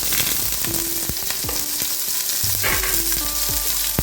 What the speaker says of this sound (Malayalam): അതിലേക്ക് നമുക്ക് അരിഞ്ഞു വെച്ച സബോള വെളുത്തുള്ളി ഇഞ്ചി പച്ചമുളക് എന്നിവ ചേർത്ത് കൊടുക്കാം